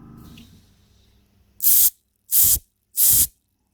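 Carburetor cleaner is sprayed in three short, loud, hissing bursts through a Honda CB750 K2 carburetor in a workshop, each burst separated by a brief pause, after a faint low hum.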